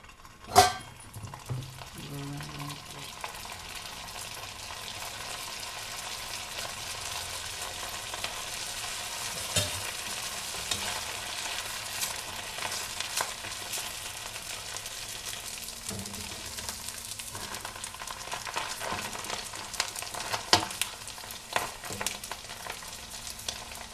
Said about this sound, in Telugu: గులాబ్ జామ్ కోసం ప్రిపేర్ చేసుకున్న బాల్స్ డీప్ ఫ్రై చేసుకోవాలి చూడండి నూనెనైతే బాగానైతే వేడెక్కింది